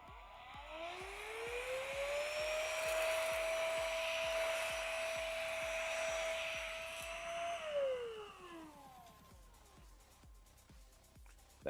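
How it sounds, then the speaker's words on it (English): A vacuum cleaner motor whines up to a steady high drone with a low rhythmic pulsing, holds for several seconds, then winds down, leaving a faint fluttering hum. "Excuse the noise. Vacuum coming in."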